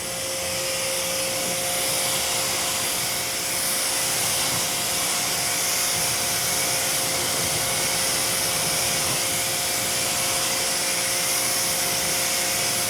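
Pressure washer spray hissing continuously and loudly as it rinses dirt off a Jeep Rubicon wheel, steady and close with no pauses.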